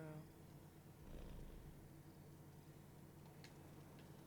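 A cat purrs softly in the video game Marvel's Midnight Suns, a faint, continuous low rumble under light background noise with a few small ticks.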